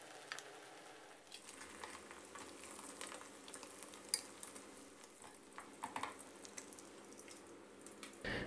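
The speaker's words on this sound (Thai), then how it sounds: "เดี๋ยวเราทอดไข่ของเรากันให้เสร็จเลยนะครับ" Eggs fry in oil in a pan, cooked for a Thai egg soup; a quiet, continuous crackling sizzle with scattered small pops carries on throughout.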